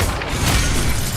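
An Expelliarmus spell goes off in the game Hogwarts Legacy on hard mode as a short, loud, dense burst of booming, crackling energy lasting about a second.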